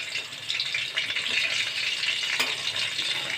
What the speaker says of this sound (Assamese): মই এতিয়া গোটেইখিনি বাকী মাংসখিনিও ভাজি লওঁ।